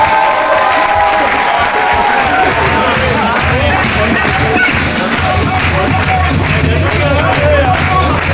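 A large outdoor crowd at the 2013 Aquitaine La Course Couleur Nature race gives sustained, loud applause and cheers for the silver-medal team, a dense clapping wash that fills the whole stretch with voices mixed in.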